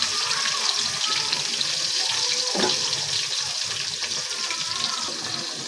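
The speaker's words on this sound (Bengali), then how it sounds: "আমার তেল গরম হয়ে গেছে, এখন আমি দিয়ে দিলাম পেঁয়াজ মরিচ" Onions, chilies and a pinch of salt fry in hot oil, giving a loud, steady sizzle that fills the whole stretch without letup. No one talks.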